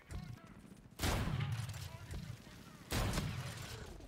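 Two bursts of rapid automatic hip fire from the Proteus gun in Infinite Warfare, loud crackling volleys about two seconds apart, with someone talking excitedly between and under the shots.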